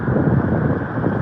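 Steady wind gusts blowing hard against an outdoor microphone, a continuous low roaring rumble with no pauses, close and loud throughout.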